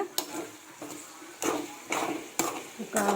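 Food being stirred in a covered pan on the stove, a series of scraping, clattering strokes of a spoon against the pan about every half second, with gentle sizzling between strokes.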